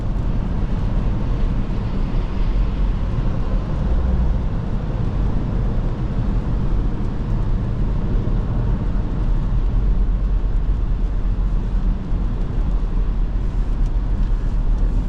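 A 2023 Dodge Durango SRT 392 with its ZF 8-speed automatic drives steadily, a deep continuous engine and road rumble filling the cabin throughout, close and fairly loud with no speech.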